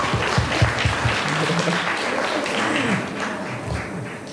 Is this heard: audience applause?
yes